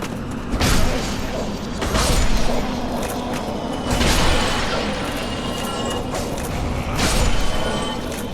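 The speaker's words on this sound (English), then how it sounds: "Here is an elevator." A mechanical elevator in the Dark Souls video game, in the New Londo Ruins, moves with a loud, continuous grinding rumble punctuated by heavy clunks and creaks every second or two.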